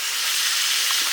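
Garlic sizzles in a hot pan for Haitian spaghetti, giving a brief, steady, bright hiss of frying with no talk over it.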